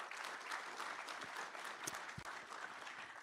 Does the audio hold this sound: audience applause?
yes